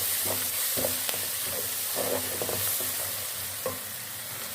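Onion, garlic and ginger fry in hot oil and are stirred, giving a steady close sizzle broken by scraping and clinking stirring strokes, with no talk.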